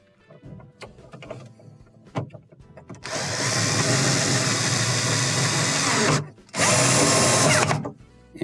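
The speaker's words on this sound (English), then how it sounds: "Now we can install the front screws." Power drill driving front screws into a Hotpoint refrigerator console: a few faint clicks and handling noises, then two loud, close whirring bursts of the drill, the first long and the second shorter after a brief pause.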